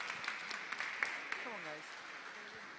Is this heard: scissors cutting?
no